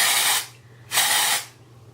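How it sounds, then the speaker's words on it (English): Two short bursts from an aerosol can of dry shampoo sprayed into hair, a hissing spray lasting about half a second each, close by with a brief pause between. "So I just spray it in and I just sort of brush it in"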